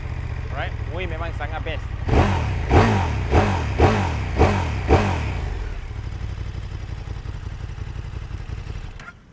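A 2021 KTM 1290 Super Duke GT motorcycle engine fires up and gives six sharp, evenly spaced throttle blips, then settles into a steady idle close by, with someone talking before and after.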